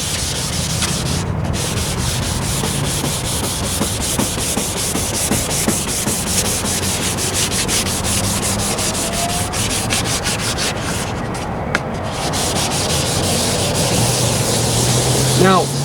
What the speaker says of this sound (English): just straight up plastic running off the light that you're sanding off